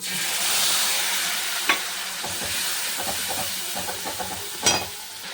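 Spices crackle and sizzle in hot oil with bay leaf, chilli and cumin, a steady frying hiss with a few sharp pops and spatters standing out near the pan.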